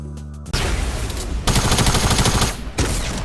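Rapid gunfire in the video game Fortnite, dense, loud bursts of automatic shots that start abruptly, with a brief pause before the firing resumes.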